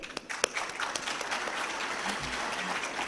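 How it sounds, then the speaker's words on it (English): Audience applause for General Zubair at a business summit in Islamabad, a dense, steady wash of many hands clapping that carries evenly through the whole stretch without speech over it. "Here I'd really like for all of us to give a huge round of applause for General Zubair."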